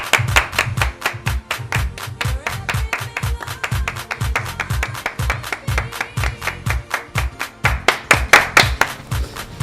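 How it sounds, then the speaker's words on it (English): People clapping their hands in rhythmic unison, a steady beat of sharp, close claps with a low thumping backing, loud and continuous throughout. "Everybody clap your hands."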